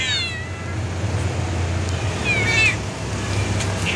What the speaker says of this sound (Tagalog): Ang ganda ng pusa.